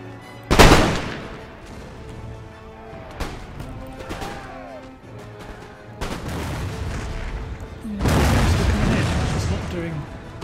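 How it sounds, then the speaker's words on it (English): Musket platoon volleys in Empire: Total War during a siege battle at Cuttack, booming shots near the start and rolling bursts of gunfire later, heard over ongoing battle noise. "what platoon firing does is it continuously kind of chips away at them"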